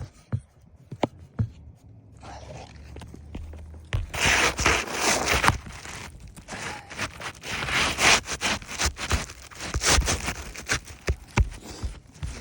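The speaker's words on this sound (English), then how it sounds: "I'm gonna cut the shingle to fit real fast." A roof shingle being cut to fit during a repair, heard as a run of rough scraping and sawing strokes that starts quietly and grows busy and close after a few seconds, with irregular rasping bursts throughout.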